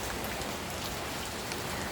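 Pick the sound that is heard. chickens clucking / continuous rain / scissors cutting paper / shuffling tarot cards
continuous rain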